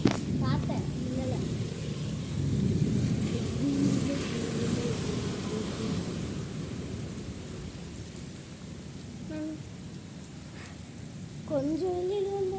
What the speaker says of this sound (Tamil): இடி இடிக்குது, மின்னலும் வருது.